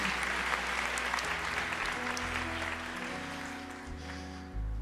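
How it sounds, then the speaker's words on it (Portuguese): A church congregation claps during a sermon: sustained, even applause from many hands, fairly distant and soft, over a low steady hum. "A igreja aplauda ao Senhor."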